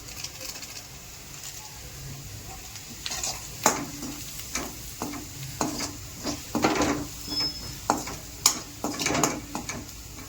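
Red chili powder and masala sizzle in a frying pan while jeera rice is being cooked at home, with a steady low fry under repeated scraping and clinking stirring strokes. Faint bird calls sound in the background and no one speaks.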